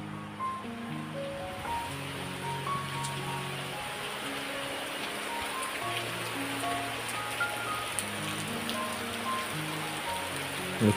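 Heavy monsoon rain pours down in Konkan, a dense, steady hiss and patter that stays loud and even throughout with no voices.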